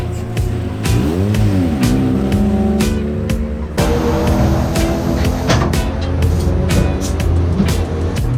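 Race car engine revving hard during a track day, a loud sustained roar with rising and falling pitch sweeps and a sharp shift partway through, no talk.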